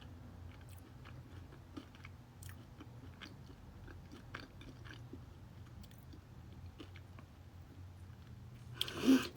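Someone slowly chews spicy dumplings close to the mic, soft wet bites and mashing repeating through the clip, ending in a brief louder burst.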